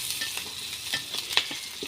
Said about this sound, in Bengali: তেল গরম হয়ে গেছে, আমি পেঁয়াজ মরিচ দিয়ে দিয়েছি।